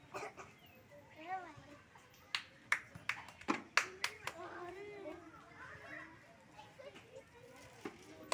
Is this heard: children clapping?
yes